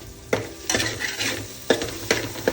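Tomato pieces fry in a pan for a fish curry (chepala iguru), a soft sizzle running beneath several sharp metallic scrapes and clanks of a spoon stirring against the pan.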